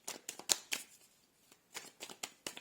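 Tarot cards are shuffled by hand in short crisp riffling bursts, a cluster of quick flicks, a brief pause, then another run of rapid snaps, close and clear.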